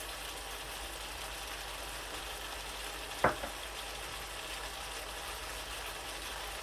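Potato bhujia frying in a pan with garlic and green chillies gives a steady, low sizzle, broken once by a brief clatter of a utensil, no voices.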